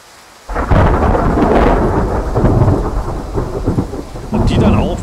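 Thunderstorm with rain in the hunting game Way of the Hunter, a sudden loud rumbling thunderclap rolling on over steady heavy rain, with another crack of thunder near the end.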